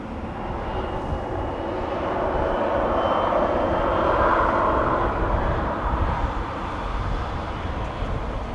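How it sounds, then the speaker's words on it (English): An Airbus A350 on approach at Amsterdam Schiphol Airport on a windy day, a broad steady jet roar that swells slightly toward the middle, heard from a distance with no talking. "The A350 is coming."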